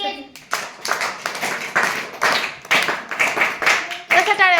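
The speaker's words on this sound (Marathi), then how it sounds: "टाळ्या वाजवते" A classroom of children claps their hands in quick, uneven rhythmic bursts, loud and close, while a teacher's voice speaks at the start and again near the end.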